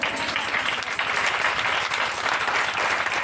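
A church congregation applauding during a service, loud sustained clapping from many hands filling the room evenly from start to finish, with no voices over it.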